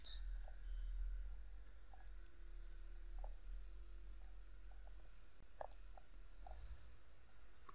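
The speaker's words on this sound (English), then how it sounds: "I need to type this" Typing on a computer keyboard, a sparse scatter of soft, quiet key clicks at irregular intervals over a low background hum.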